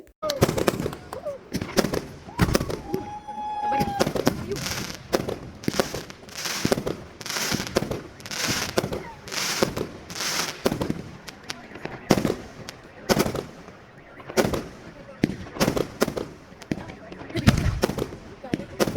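Fireworks at a Russian wedding burst repeatedly in loud, sharp bangs and crackles, one after another for the whole stretch, with faint voices in the background.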